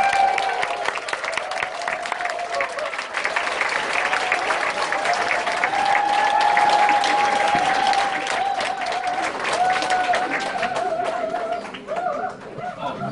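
A crowd applauds continuously for several seconds, dense and loud, with a few whistles and cheers mixed in before it starts to thin.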